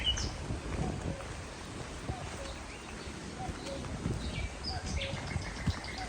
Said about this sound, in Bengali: আর পাখির এত কিচিরমিচির আওয়াজ,